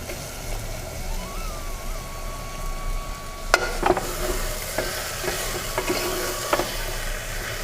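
Coconut paste and salt being stirred into a kurma in a pan, giving steady scraping and stirring with a soft sizzle and a few sharp clinks of the spoon against the vessel.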